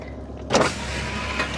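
The electric windows of a car are lowered on a hot day, giving a close, steady motor whir with a brief louder whine over the running car's interior hum.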